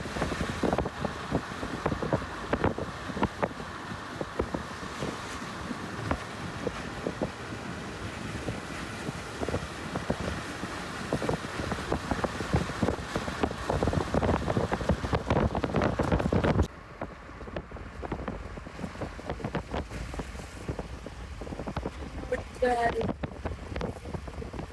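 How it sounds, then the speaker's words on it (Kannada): Heavy rain pounds a moving vehicle near Brahmavar on the coastal road, a dense continuous roar mixed with wind rush that drops abruptly about two-thirds through. A person talks over it. "ಬ್ರಹ್ಮಾವರ ಹತ್ರ ಬರ್ತಿರ್ಬೇಕಿದ್ರೆ ಜೋರು ಮಳೆ ಸ್ಟಾರ್ಟ್ ಆಯ್ತಾಯ್ತಾ."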